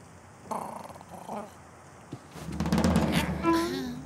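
A low, rough growl rises after a few short calls, a crow mimicking a dog's snarl, close and fairly loud.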